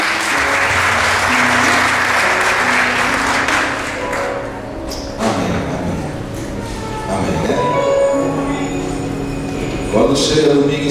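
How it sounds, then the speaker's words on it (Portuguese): Church congregation applauding at the close of a prayer, a broad wash of clapping in the first seconds that thins out as talking and scattered sounds take over. "Vamos aplaudir eles."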